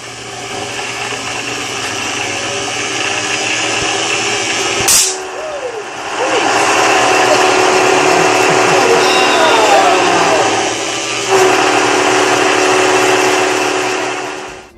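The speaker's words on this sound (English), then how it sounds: "I'll get to a certain RPM and it'll just start resonating." A QEG quantum energy generator spins up and resonates with a steady, loud droning hum carrying layered harmonic tones, broken by a sharp thump near five seconds, then swelling and wavering as it runs on.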